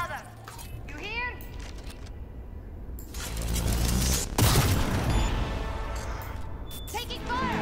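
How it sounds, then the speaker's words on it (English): Gunfire in the video game Cyberpunk 2077: sharp bursts of shots hit over a dense, rumbling game soundscape, with a louder barrage around the middle and scattered cracks later, sitting close and fairly loud. "Taking fire."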